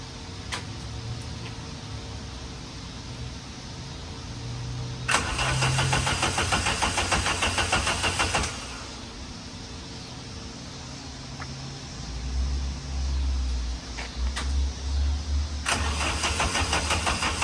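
A Saab engine swapped into a Pontiac Fiero cranks in several bursts, its starter whirring for a few seconds at a time between quiet gaps, with a fuel pump ticking and faint clicks in the pauses.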